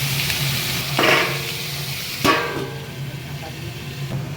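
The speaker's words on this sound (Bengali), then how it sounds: "তেলের মধ্যে দিয়ে দিলাম কাঁচা লঙ্কা, আর এবার আলু কুমড়ো চিংড়ি ছোলা দিয়ে ভাত দিয়ে দিচ্ছি" Loud close sizzling of green chillies, potato, pumpkin, shrimp and chickpeas frying in hot oil, a steady crackle broken by two bursts as food is stirred, with a faint voice in the background.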